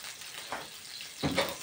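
Börek fries in a pan of butter and a little vegetable oil, giving a soft, steady sizzle with a couple of brief louder crackles or stirring noises near the end; no one speaks over it.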